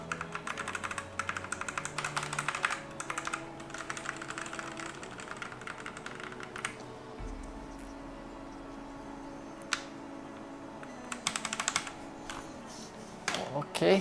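Rexus M71 mechanical keyboard with red linear switches being typed on, a steady run of light clicky keystrokes up close, with speech-like voice passages mixed in at times.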